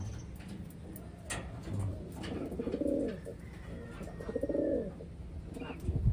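Taiwan pigeons in a loft cooing close by, with a few soft rhythmic coos over light background rustling and clicks.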